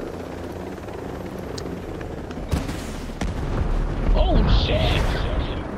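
A sudden explosion in the video game Ghost Recon Breakpoint, a sharp boom followed by a second blast and a rumbling roar over a steady helicopter drone, with someone shouting in alarm.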